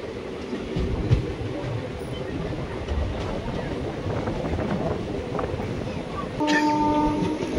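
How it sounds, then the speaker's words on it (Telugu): An LHB passenger train passing on the opposite track near Gudur Junction gives a horn blast near the end, over continuous rumbling wheel and wind noise from a moving train. "ఆపోజిట్లో అయితే LHBకి వచ్చేస్తే అయితే ట్రైన్ అయితే వచ్చింది"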